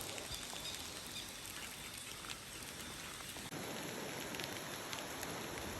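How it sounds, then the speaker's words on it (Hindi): Heavy rain pours down steadily, a constant close hiss with no voices, unbroken from start to finish. "बारिश ज़्यादा हो रही है"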